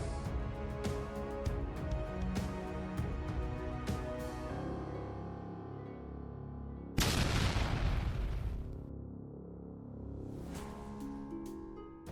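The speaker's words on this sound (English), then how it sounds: "A powerful explosion follows, engulfing the tank in flames." On an active front line, a Russian tank is hit by return fire and explodes into flames, a sudden loud booming burst midway that follows a stretch of sustained rumbling and fades into a long tail.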